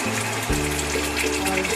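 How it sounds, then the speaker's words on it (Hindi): One cup of water poured from close by into three cups of sugar and crushed cardamom for sweet rice syrup, a steady splashing gush that runs without pause and alone. "अब इसके अंदर हम 1 कप पानी डालेंगे"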